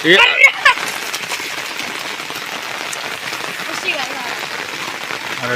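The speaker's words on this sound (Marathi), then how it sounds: "एवढा जोरदार पाऊस पडायला लागलाय" Heavy rain pours down steadily, a dense hiss of drops striking hard surfaces, with a brief voice at the start.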